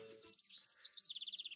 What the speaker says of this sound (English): I love listening to the sounds of the birds chirping in the gates.